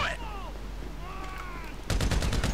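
Gunfire in Grand Theft Auto V, a quick burst of several rapid shots arriving near the end after a stretch of quieter game ambience.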